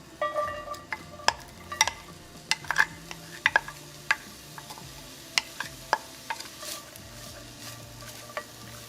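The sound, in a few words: onions sauteing in oil in a hot pan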